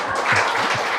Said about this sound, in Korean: 우리 여기 있는 여성분들을 위해서 우리 박수 한번 쳐줘요